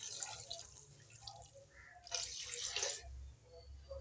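Water, about one and a half glasses, is poured into a pressure cooker holding spiced ingredients for shami kabab, making faint splashing and trickling in a quiet kitchen, with a slightly fuller gush near the end.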